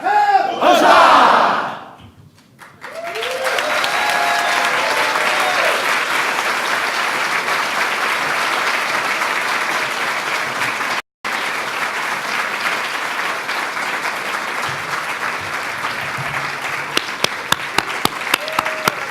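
A crowd at a July 4th ceremony at the National Archives breaks into sustained applause and cheering, a dense, even roar of clapping that runs on with one brief cut midway and a few sharp claps near the end.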